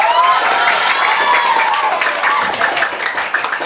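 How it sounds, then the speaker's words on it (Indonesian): Audience applause in honor of Vanessa at a one-day English and character camp event, a dense, steady wash of clapping and crowd noise that stays loud throughout. "Tepuk tangan buat Vanessa"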